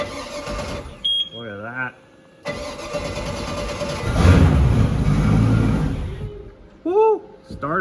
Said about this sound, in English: Starter works.